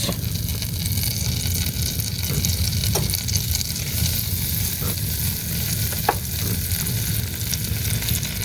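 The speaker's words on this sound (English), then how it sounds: "I'm using half a stick of butter because I'm only using half of the recipe. And I'm going to let this melt." Half a stick of butter melts in a pot over a high camp-stove flame inside a van, giving a loud, continuous bubbling sizzle with a few faint clicks.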